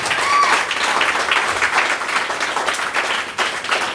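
An audience at a Tamil talk gives a round of hand clapping, a steady wash of many hands throughout, with faint voices underneath.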